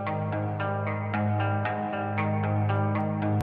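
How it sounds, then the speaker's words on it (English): A sampled sad guitar riff drenched in spacey reverb and effects, with repeated plucked notes ringing into a washy sustained haze, steady and fairly quiet. "find a band to sample a sad guitar riff"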